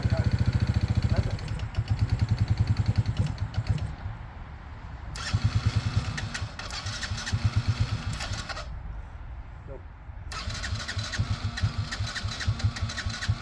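Yamaha Grizzly 80 ATV engine being started repeatedly, the starter cranking in bursts that catch into rough, knocking idle and revs, loud and close throughout.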